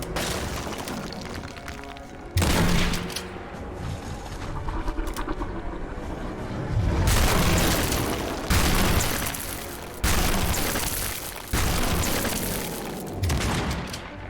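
Gunfire in the video game AILA comes through as loud repeated bursts with booming impacts, sharp onsets every couple of seconds over a continuous noisy backdrop, with no talking.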